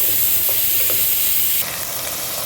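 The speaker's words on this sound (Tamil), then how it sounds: "வெங்காயமே நல்லா ஃப்ரை ஆகிடுச்சு" Potatoes and onions sizzle in a pan for a cabbage and mixed vegetable poriyal, a steady close frying hiss with a few faint stirring clicks, softening slightly partway through; no one speaks.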